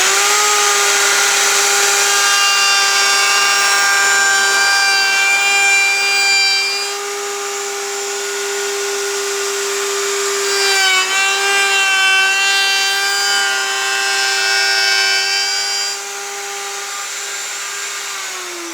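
A power tool cuts a sliding dovetail into the end of a wooden miter joint for a step stool, a loud, close, steady high whine with a strong tone that dips slightly in pitch as the cutter passes along the wood.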